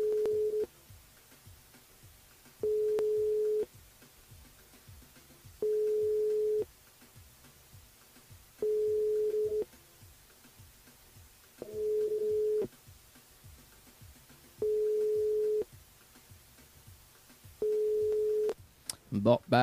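Unanswered telephone ringback on a live radio call-in show: a steady tone pulses about seven times in even, spaced intervals over a faint background, ending in a brief clatter.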